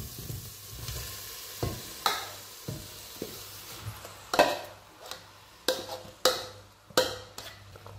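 Zucchini fries in a pan with garlic and ground red paprika, a soft steady sizzle broken by repeated sharp scrapes and knocks of a utensil stirring against the pan, close and clear.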